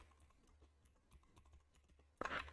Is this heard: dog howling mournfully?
no